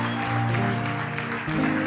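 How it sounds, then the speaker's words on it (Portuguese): A church congregation in Lisbon applauds steadily throughout, with sustained tonal music ringing underneath the clapping. "Vamos lá, vamos aplaudir"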